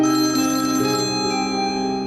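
A telephone rings with a bright, sustained electronic trill, loud and close, with no talking over it.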